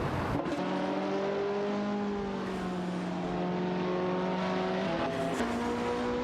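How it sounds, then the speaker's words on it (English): Race cars in a video game, a McLaren 675 LT and Radical RXC, tear around a circuit with sustained high engine whine, gear shifts and shifting pitch, loud and close without talk. "We've got some exciting R-driven cars tearing up the circuit today."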